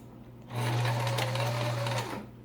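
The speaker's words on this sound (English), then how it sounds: "use the widest zigzag stitch on your sewing machine and zigzag your edge" A sewing machine runs a wide zigzag stitch along a fabric edge for a surgical mask, giving a steady, close motor hum with rapid needle chatter that starts and stops cleanly over about a second and a half.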